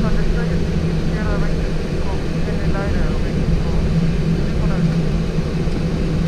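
A Boeing 737-800 airliner takes off from runway 5 left at Mexico City, its engines a loud, steady, broad roar throughout. Radio voices come faintly through the noise.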